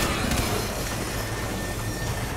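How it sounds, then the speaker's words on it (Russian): A moving train in the video game Crysis 3 rumbles and rattles steadily, a loud continuous mechanical roar of wheels and cars with no speech over it. "Псих, этот поезд полон легко взрывающихся материалов."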